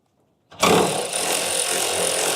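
Battery-powered tool undoing a bolt on an MG Midget shock absorber bracket during a strip-down, bursting on abruptly after silence and then whirring loudly and continuously up close.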